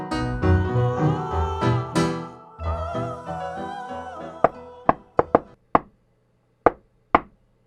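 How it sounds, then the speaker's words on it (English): Knocking on wood comes after a stretch of talk: about seven sharp, hollow raps in an uneven rhythm, close and clear, the final ones spaced apart with silence between. "No, Larry, that was me, knocking on wood."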